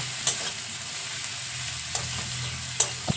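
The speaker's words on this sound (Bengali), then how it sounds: "আদা রসুন বাটা দিয়ে খুব ভালো করে নেড়ে চেড়ে ভেজে নিতে হবে" Ginger garlic paste frying with onions in a pan, a steady close hiss punctuated by a few sharp clinks and scrapes of a spatula stirring.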